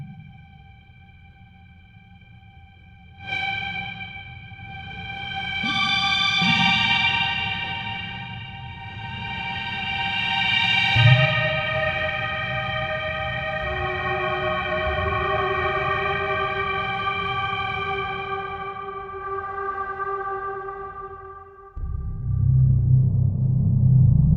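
Layered synthetic tones built from processed tabla samples swell and glide with heavy echo, bell-like overtones stacking over a low pulsing drum texture, ending in a louder percussive hit.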